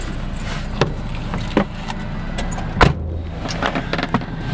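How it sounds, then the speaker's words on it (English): A car sitting with its engine left running, a low steady hum underneath, close by, with keys jangling, clicks and a door-like thud scattered over the top. "I'll leave the car on, so I'll be quick"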